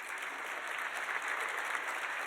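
Audience applause at a university scholarship luncheon, a dense and steady clatter of many hands clapping together, held at an even level for a couple of seconds with no voices over it.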